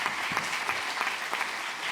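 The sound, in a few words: round of applause for conference panellists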